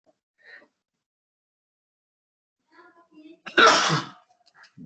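A single loud, explosive sneeze or cough erupts near the end after near silence and a few faint murmurs.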